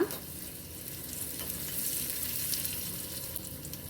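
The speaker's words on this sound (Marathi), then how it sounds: "आता लसण छान असा आपला लाल झाला की याच्यामध्ये आपण सुक्या मिरच्या घालूया" Dried red chilies go into garlic already frying in hot oil, giving a steady close crackling sizzle that carries on evenly for a few seconds.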